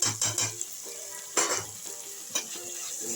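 Coriander powder, turmeric and salt frying in oil with curry leaves in a pan for moong dal khichdi: continuous sizzle broken by several distinct utensil scrapes and clinks against the pan.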